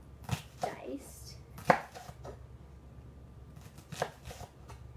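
Onions being chopped with a knife on a board: a handful of irregular, crisp close knocks spaced apart over quiet background, no talking.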